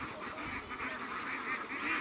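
A three-month-old duck, legs tied for weighing on a digital scale, gives a run of rough honking quacks that continue without a break at moderate loudness, close by.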